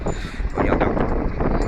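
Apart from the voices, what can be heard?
wind blowing into the microphone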